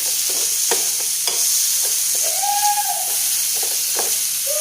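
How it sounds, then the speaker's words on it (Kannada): Tomatoes frying in a pan after ginger and garlic for Andhra-style dal, with a steady sizzle and hiss, scattered scraping stirs, and a brief steamy whistle partway through. "ಈಗ ತಕ್ಷಣ ನಾನು ಟೊಮೊಟೊ ಹಾಕ್ಕೋತೀನಿ ಅದು ಸ್ವಲ್ಪ ಸಾಫ್ಟ್ ಆಗೋವರೆಗೂ ಟೊಮೊಟೊನ ಹುರ್ಕೋಬೇಕಾಗುತ್ತೆ"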